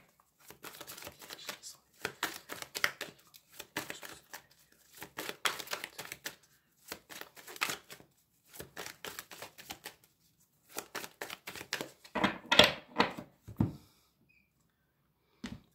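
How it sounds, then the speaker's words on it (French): Tarot cards being reshuffled on a table after many fell, producing soft, irregular bursts of riffling and sliding card sounds with short pauses between them, close and quiet. "je vais bien remélanger les cartes parce qu'il y en a beaucoup qui sont tombées"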